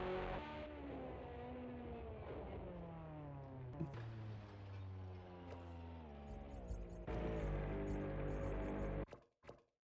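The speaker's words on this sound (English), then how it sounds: "These cars are annoying to listen to." Racing car engines in Project Cars 2 rev and whine steadily, pitch rising and falling through gear changes, then surge louder near the end before cutting off abruptly.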